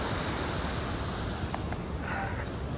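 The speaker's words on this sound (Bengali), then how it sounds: "ঝর্ণা আর ঝর্ণা।" A waterfall in Sikkim rushes in a steady, loud, broadband roar that fills the whole stretch without a break, close and unvarying, with no voices.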